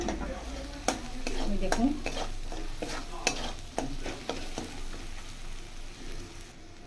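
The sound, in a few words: spice paste frying in a pan for fake omelette curry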